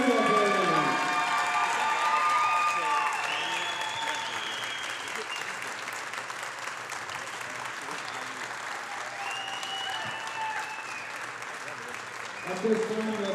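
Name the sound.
crowd applause for senior volleyball players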